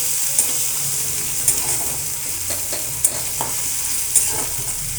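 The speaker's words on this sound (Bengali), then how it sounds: "আদা কুচিটা ভালো করে ভাজবো।" Chopped ginger frying in a pan for soya chunk manchurian, with a steady oil sizzle running throughout and a few sharp stirring clinks at intervals, moderately loud and close, with no voices.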